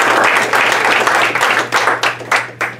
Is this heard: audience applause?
yes